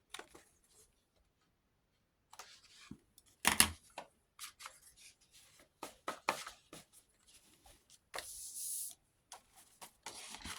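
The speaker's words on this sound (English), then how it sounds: "I want to find my scissors, and I just want to snip those corners." Scattered snips of scissors cutting paper, short sharp clicks spaced irregularly in an otherwise quiet room, with a brief rustle in between.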